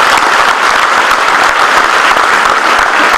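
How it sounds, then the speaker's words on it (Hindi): Loud, dense audience applause fills the whole stretch at a Hindi comedy poetry gathering, a steady wash of many hands clapping with no voices over it. "पर तालियों में जोर होना चाहिए"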